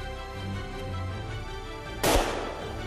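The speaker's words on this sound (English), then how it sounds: "Okay, shoot him again." A single loud rifle shot cracks during a hunt for BC brute game, sharp and close, following a steady low rumble of background noise with a short decaying tail.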